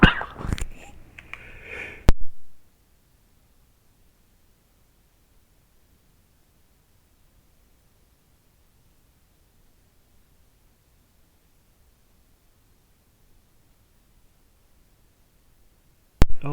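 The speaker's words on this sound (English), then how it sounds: "I just had some really, really nasty sneezes." A few hard, explosive human sneezes in quick succession right at the start, loud and close, followed by a long stretch of near silence.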